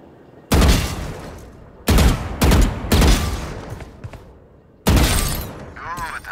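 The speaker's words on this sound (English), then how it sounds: "move to face each bot, then stop and shoot while standing still" Rapid bursts of gunfire hit practice bots in the video game VALORANT, in four or five loud, close volleys separated by short pauses, each ending in a ringing tail.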